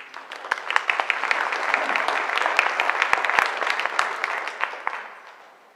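An audience at Har Zion Temple applauds warmly for a speaker named Emily, a dense sustained clapping that builds and then tapers off at the end.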